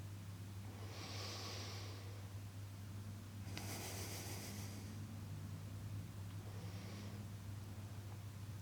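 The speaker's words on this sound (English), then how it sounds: "we're going to start breathing more deeply with the abdomen" Deep abdominal breaths during breathwork meditation come as slow, airy inhales and exhales, three soft swells spaced a few seconds apart over a low steady hum, faint and close, without speech.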